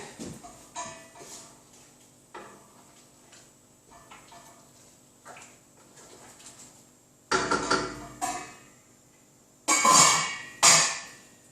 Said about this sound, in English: So give that a good stir.